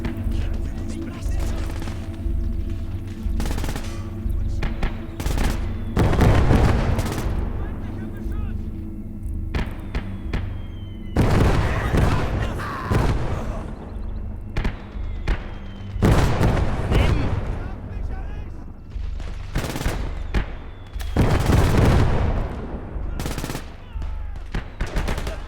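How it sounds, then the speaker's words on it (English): An artillery barrage lands during a WWII Utah Beach assault led by a Sherman tank in Gates of Hell, with repeated loud booms and crashing impacts over steady machine-gun fire and engine rumble, while a voice talks over the battle. "I'm gonna drop some artillery here."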